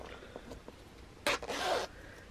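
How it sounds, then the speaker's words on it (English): A zipper on the front pocket of a sewn crossbody bag is pulled open in two quick, rasping bursts after a few faint handling taps, close and quiet. "if you see, you open up your zipper"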